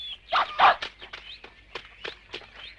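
A hunting dog moves about outdoors, giving a few sharp barks amid scattered footsteps and rustling, fairly close, with no talking.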